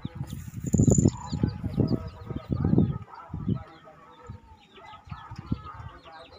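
Chickens clucking close by on a small breeding farm where hens are raising chicks, irregular bursts of clucks that grow busier and then thin out to softer background calls.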